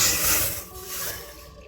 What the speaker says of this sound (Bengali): এবার এই জলটা আমি দিয়ে দেবো।